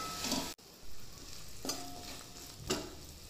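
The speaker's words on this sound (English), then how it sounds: "And then give this a nice mix so that the spices are coated on all the vegetables." Spices stirred into vegetables frying in oil for vegetable biryani, a faint steady sizzle broken by a few soft spatula scrapes, with no talking.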